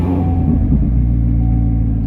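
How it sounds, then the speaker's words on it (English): A manual-transmission car engine cranks and starts, then settles into a steady, loud low idle rumble, close up with no talk. "go ahead and start the car."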